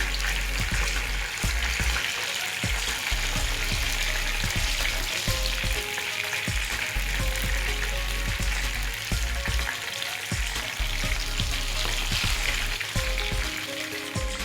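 Fish sizzles in hot oil, a loud, continuous close-up frying crackle with scattered pops and a low hum beneath, no voices.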